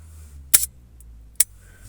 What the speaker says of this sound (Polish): Sprawdzę migawkę tak ręcznie.